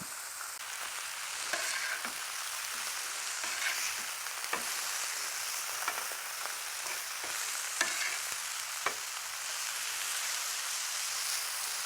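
Pork loin, squash and zucchini fry on a hot griddle with a steady, dense sizzle throughout, dotted with sharp pops and crackles at irregular moments.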